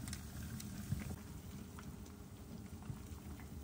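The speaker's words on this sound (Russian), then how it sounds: "Картошка варится." Potatoes boiling in a pot, a steady low bubbling and simmering patter that runs evenly throughout at a quiet, close level, with no voices.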